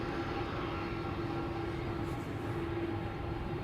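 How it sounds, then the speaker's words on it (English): A DHL Airbus A300-600 cargo jet departs Amsterdam Schiphol Airport, heard as a steady, distant roar with a sustained engine hum. The sound holds constant throughout. "DHL Airbus A300 600 banana to Madrid"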